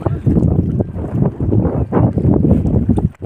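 Strong wind gusting at a village dam and pond, buffeting the microphone in loud, uneven rumbling bursts throughout, with no clear talk.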